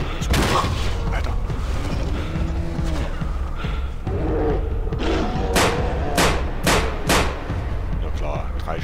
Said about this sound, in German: drei Schuss und der ganze Bär ist tot